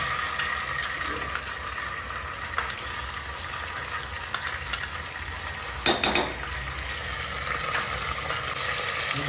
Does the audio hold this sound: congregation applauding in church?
no